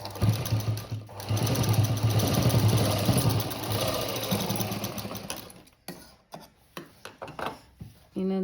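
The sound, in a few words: sewing machine stitching a cut work blouse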